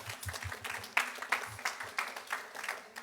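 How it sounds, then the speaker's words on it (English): Audience applause in a session room as one group claps for another, fairly quiet clapping in uneven bursts with a few louder individual claps over a low background hum, no speech. "You want to applaud for the greens?"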